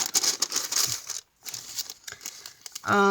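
A plastic bag from a journaling kit is handled, crinkling and rustling loudly up close in busy bursts with a brief pause midway, while a voice starts speaking at the very end.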